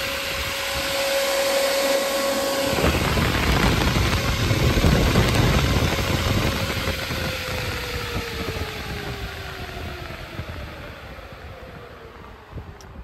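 A PROFORM 14-inch brushless fan spins up to full speed, its motor whine rising in pitch over a loud, steady rush of air that stays close and dominant throughout, no voices.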